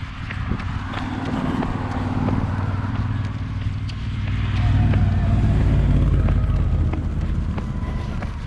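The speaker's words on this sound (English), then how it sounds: "Now I'm on the right side of the road and all I can hear is cars." Cars pass along a roadside during a relay race, a continuous broad traffic wash that swells as a vehicle goes by near the middle and then eases off, heard close at moderate volume without talk.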